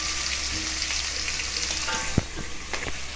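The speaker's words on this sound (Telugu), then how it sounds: "పోపులు కొద్దిగా చిటపట్లాడేటప్పుడు" Tempering seeds crackle in hot oil while three sliced medium onions fry for a bitter gourd curry. A steady, close sizzle runs throughout, broken by a few sharp pops and crackles, with no voices.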